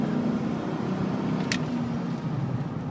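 A truck's engine idles smoothly, a steady low rumble held close and even, with a brief high squeak cutting in once partway through.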